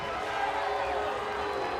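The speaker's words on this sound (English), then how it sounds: "Oh, a crowd letting them hear it." A wrestling arena crowd at TNA Sacrifice 2005 jeers in a steady, dense roar that fills the whole stretch, with indistinct voices mixed in.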